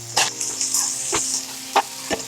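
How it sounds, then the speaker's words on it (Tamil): Onions, chillies and chopped tomato sautéing in a pan for potato masala, with a steady close sizzle broken by a few sharp scrapes of a spoon stirring. "இப்போ நல்லா வதக்கிட்டே இருங்க."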